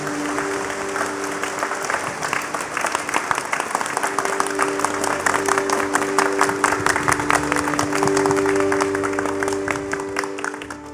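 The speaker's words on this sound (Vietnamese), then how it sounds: "con xin cộng đoàn cùng chúc mừng các khấn xin bằng những tràng pháo tay thật nồng nhiệt" A congregation applauds at a Dominican solemn religious profession Mass with sustained, warm clapping from a large gathering, steady for about eleven seconds over a faint held musical tone in a reverberant church.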